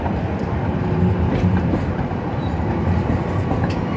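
A train rolls past at a San Diego train station, a loud, continuous rumble of wheels and rail clatter close by, with faint rhythmic clacking and no voices.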